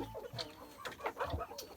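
Several chickens and young roosters cluck in a poultry yard, a few short, close calls spaced across a couple of seconds, with no talk over them.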